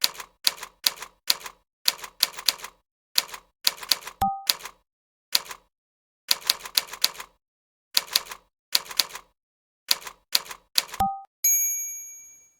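Bursts of crisp keystrokes on a computer keyboard in a typing tutor clatter in quick runs separated by pauses, with a bell-like ding twice and a sliding carriage sound at the end, like a typewriter.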